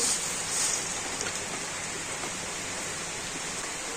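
A bowl of water pours into a wok with a continuous close, rushing splash that holds steady for about four seconds, with no talking.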